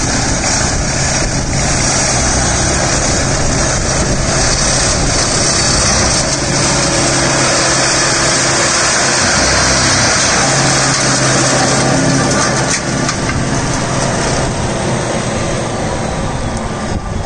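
A Deutz-Fahr Agrolux 80 CRDI tractor drives a Maschio shredder through its PTO on a farm, a loud, close, unbroken engine roar with a high whine that holds steady throughout.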